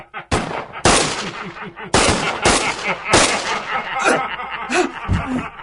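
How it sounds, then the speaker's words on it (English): A radio drama shootout crackles with gunfire and ricochets. About six sharp, loud shots ring out in quick irregular succession, and each bang trails into echoing reverberation. "Your men are killing each other with their own ricochets, McKinnon."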